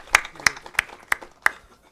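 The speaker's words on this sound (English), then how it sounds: "So I think we should give a big hand of applause to both parties." A few individual claps ring out sharply in an auditorium after a panel discussion, about five spaced, separate hand claps with quiet gaps between them rather than a full crowd ovation.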